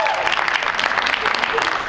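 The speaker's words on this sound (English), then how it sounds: "Round of applause" Steady applause from a stand-up comedy audience fills the full stretch, dense and even, with voices faintly mixed into the clapping.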